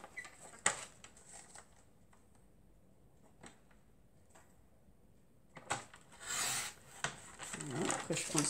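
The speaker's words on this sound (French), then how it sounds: "On vient le couper au massicot." Guillotine paper trimmer cutting a paper strip for a craft project: a sharp snip early, then quiet handling, and a louder scraping slice with rustling paper near the end, close and fairly faint.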